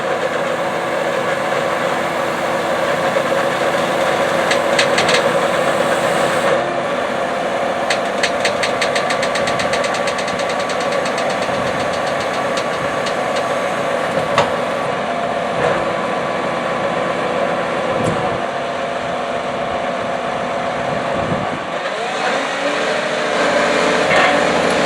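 A John Deere 2680H high performance disk pulled by a tractor tills hard, weedy, grassy ground at speed, giving a loud, steady engine drone with rattling, clanking implement noise throughout, close and continuous with no talk.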